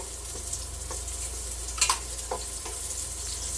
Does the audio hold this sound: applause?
no